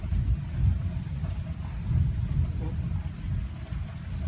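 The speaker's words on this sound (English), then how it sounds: "It's bringing the much needed rain." Steady rainfall with a low rumbling wash underneath, continuous and fairly loud; a voice briefly speaks over it.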